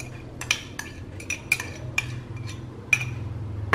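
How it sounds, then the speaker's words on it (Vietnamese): A spoon stirs sugar into a fish sauce dressing in a small bowl, giving a series of light, irregular metallic clinks and taps against the bowl, close up and alone. "Và mình khuấy đảo đều đi nha. Khi mình đã khuấy tan đường rồi á"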